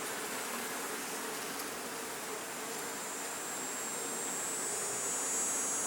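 Honey bees in an open hive make a dense, continuous buzzing drone, loud and close, steady throughout with no talk.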